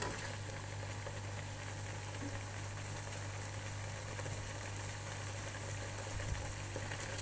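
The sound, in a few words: apple jam cooking on the stove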